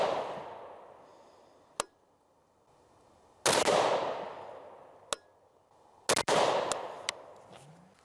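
IWI Tavor 7 rifle fired at a target outdoors, four sharp, loud gunshots spaced a couple of seconds apart, each followed by a long echoing decay, with a few fainter cracks from other shooting near the end.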